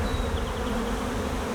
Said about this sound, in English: there's so many damn bees in here